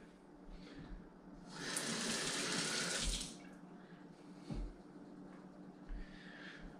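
Tap water runs into a sink while a Keurig cup recycling tool is washed, a soft steady splash that swells into a fuller gush for about a second and a half before easing back, with occasional light knocks.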